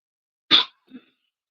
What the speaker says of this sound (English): I apologize for coughing in your ear